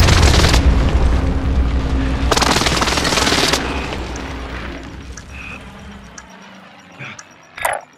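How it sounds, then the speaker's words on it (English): Loud booming precision airstrike explosions in Call of Duty Warzone, two big rumbling blasts with sustained roar that fades to quieter distant crackles and a final short burst. "Enemy precision airstrike."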